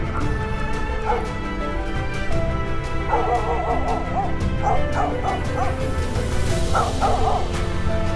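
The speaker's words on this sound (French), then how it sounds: "Il y a un chien pas attaché." An unleashed dog at what looks like a municipal campground barks repeatedly with yips and whimpers in short clustered bursts, fairly close and loud over steady outdoor background noise.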